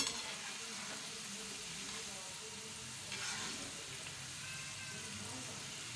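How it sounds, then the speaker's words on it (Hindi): Potato finger chips frying in hot oil over a low flame, a steady soft bubbling hiss that holds at an even level throughout. "अच्छे तरीके से हम इसको फ्राई कर लेते हैं।"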